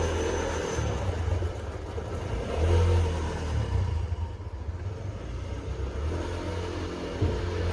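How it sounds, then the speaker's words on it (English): A scooter engine passes by a harbor in southern Italy, a low droning motor that swells and fades over several seconds, heard at moderate distance outdoors. "Well, there goes another scooter."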